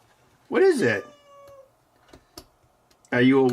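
An orange cat meows twice, close and loud, a drawn-out whiny meow followed by a second one after a pause with faint ticks between.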